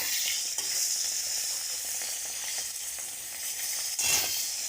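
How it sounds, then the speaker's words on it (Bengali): Fish frying in a pan for a fish curry with papaya, taro and potato, a continuous loud sizzle with stirring bursts and no talk. "মাছগুলো ভালো করে ভাজা হয়ে গেছে"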